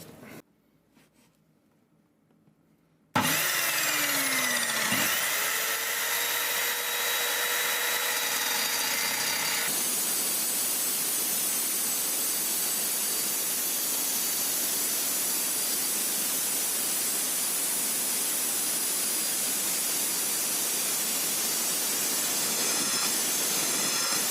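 A power tool cuts into a universal exhaust back box for a Vauxhall Combo van, starting abruptly after quiet handling, then a loud continuous harsh whine and grinding hiss that shifts in pitch and holds steady to the end.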